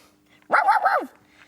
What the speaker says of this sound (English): A little white fluffy dog